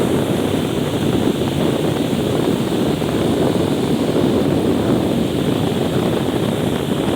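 Strong typhoon wind roars continuously against the microphone, mixed with the broad wash of big ocean waves, a loud, steady rumble with no letup and no talking.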